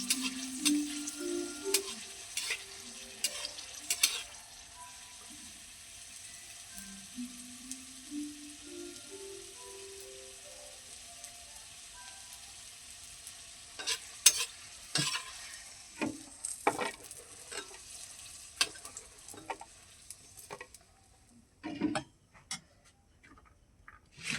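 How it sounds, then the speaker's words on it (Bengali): Green chillies frying in oil in a pan, a quiet sizzle with scattered sharp clicks and taps of a spatula or utensil against the pan, close and without talk. "কাঁচা লঙ্কা ভাজা হয়ে গেছে এবারে ভেজে দেব রসুনগুলো"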